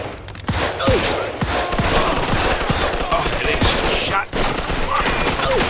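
Sustained gunfire in Mafia II: rapid bursts of shots crack over a dense, noisy firefight, with brief lulls before the shooting resumes.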